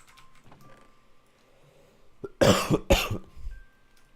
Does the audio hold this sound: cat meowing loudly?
no